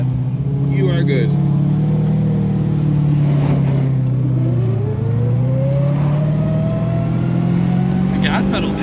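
Datsun 240Z engine while driving, a loud droning rumble heard from inside that rises and falls as the throttle is worked, with a revving climb near the end and occasional voices underneath.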